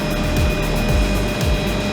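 Steady, loud rotor and engine drone from inside a helicopter flying over Oahu, constant throughout with no voices.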